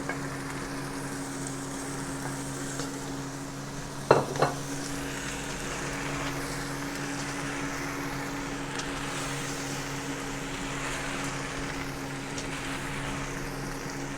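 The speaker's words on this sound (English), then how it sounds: "Bit difficult to get it all mixed like this, but give it a stir around." Beef stew with osso buco, brisket cubes and bones is stirred in a full pot: a steady sizzling, bubbling wash with a low hum beneath and one sharp scrape or knock partway through, no voices.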